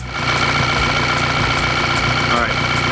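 A VW 2.0T TSI engine idles steadily with a low, even mechanical hum and faint vibration throughout, held at a constant level with no revving.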